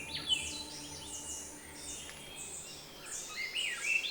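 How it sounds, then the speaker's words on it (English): Several birds sing and chirp at sunrise in a Costa Rican forest, bright overlapping calls and short trills scattered through the clip, fairly faint and distant over a quiet background hum. "the sun is greeted by a multitude of bird songs."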